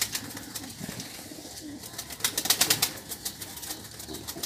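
Pigeons coo in a cluster of soft, throaty calls around a loft, with a few rustles and scattered noises in the background, fairly close and continuous.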